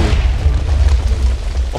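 A loud, deep booming video game explosion from a Minecraft-style lucky block, with a rumbling low-end roar that sustains for the whole short stretch, heavy and close.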